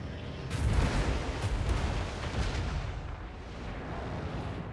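Artillery in Total War Warhammer 2 opens fire during a battle with a Skaven army: a deep booming barrage, several overlapping blasts and rumbling impacts with crackle, loud and sustained for a few seconds, then fading into a lower rumble.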